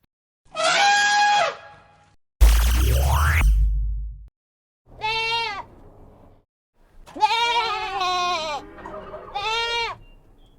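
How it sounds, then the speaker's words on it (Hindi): Goats bleat in several loud, wavering bursts, alone with no talk, and a single harsh elephant-like trumpet cuts in between the first and second bleats. "बकरी"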